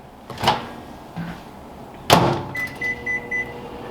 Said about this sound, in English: I'm just popping this into the microwave.